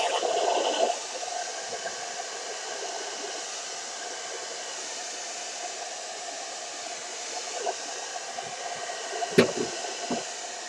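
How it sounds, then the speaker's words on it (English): A hair dryer hums and whooshes steadily at moderate volume, with a few faint clicks and bumps near the end. "You're going to start your blow dryer."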